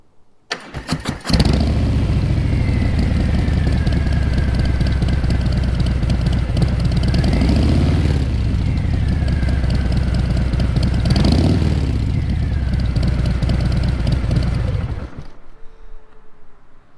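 A Harley-Davidson Fat Bob with an M8 Stage II Screamin Eagle torque cam and increased-flow breather fires up loudly, then rumbles through a deep, lumpy idle with two throttle blips before shutting off.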